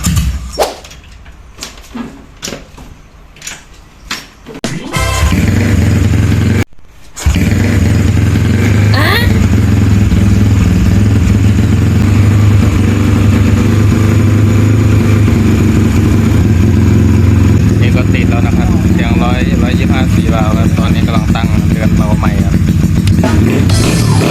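A Honda Wave 125 four-valve motorcycle engine cranks with a few sputters, catches, then settles into a loud steady running rumble with occasional revs, heard up close.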